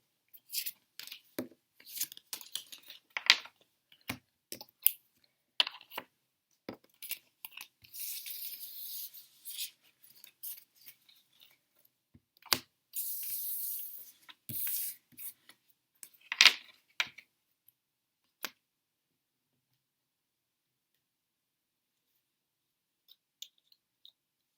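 A deck of tarot cards is gathered up and put away, with close, irregular clicks, snaps and soft rubbing shuffles in bursts that thin out and fall silent toward the end.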